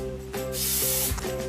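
Cooking spray hisses into a cup in two or three short, close bursts over a faint steady hum, the lining step for a microwave cake in a cup.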